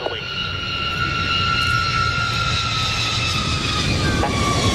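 A large aircraft with an unusual undercarriage layout comes in to land at an air show, a steady loud engine whine with sustained high tones over broadband roar, continuous throughout.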